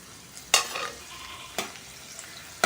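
Sun-dried buttermilk chillies frying in oil: a soft continuous sizzle broken by a few sharp spoon scrapes against the pan, heard up close with no voices.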